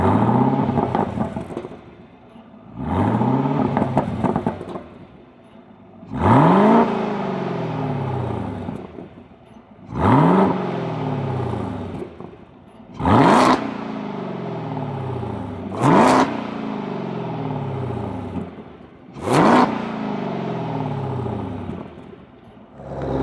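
A 2017-2021 Chevrolet Camaro ZL1 with an AWE Touring catback exhaust revs about seven times from around twelve feet behind, each sharp throttle blip rising and falling back to a deep idle burble, with no talk.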